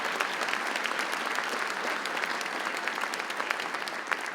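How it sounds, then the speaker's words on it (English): Steady applause from a concert audience at a community band performance, dense and even clapping filling the whole stretch at moderate distance, with no talk. "Give them a nice round of applause for sponsoring the concert."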